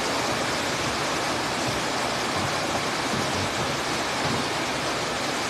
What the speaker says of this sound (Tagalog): Oh, lakas na ulan.